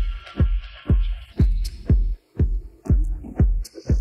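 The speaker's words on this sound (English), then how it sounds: "Drums layer sounds like this." An isolated drum stem separated from a mix in SpectraLayers 9, with punchy kick-like hits at a steady pulse of about two per second, light cymbal and hi-hat ticks between them, and no other instruments.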